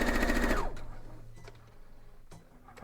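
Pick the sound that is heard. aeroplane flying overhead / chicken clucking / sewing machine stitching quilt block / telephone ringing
sewing machine stitching quilt block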